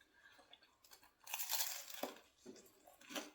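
Close, crisp crunching as someone bites into a crusty baked sourdough scroll with sundried tomatoes, olives and cheese and chews, several crackly bursts with quiet pauses between.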